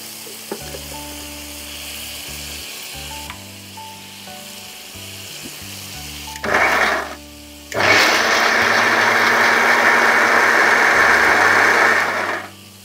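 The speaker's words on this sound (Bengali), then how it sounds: "এটা অলমোস্ট ফ্রাই হয়ে এসেছে।" Spice paste for a Bengali black pepper chicken (kali mirch) sizzles loudly in a pan in two strong bursts, a short one then a longer steady hiss, after a quieter stretch of faint kitchen sounds; no one speaks.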